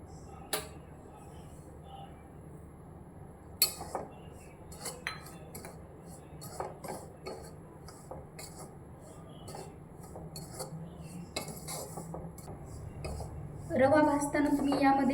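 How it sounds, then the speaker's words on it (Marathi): Dry semolina being roasted in a heavy kadhai on a gas stove for upma, with scattered metal clinks and scrapes of a utensil against the pan over low background hum, ending in a louder burst of sizzling noise. "आता सर्वात पहिले आपण रवा भाजून घेऊया"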